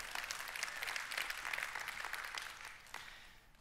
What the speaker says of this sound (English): I was wondering which one is going to get more applause.